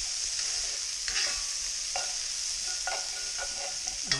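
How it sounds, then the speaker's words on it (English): Onions and celery cook down in oil in a pan for a pheasant pot pie, giving a soft, steady sizzle broken by a few light stirring scrapes and clinks, with no voices. "I will add the onions and celery with the meat out and cook them down."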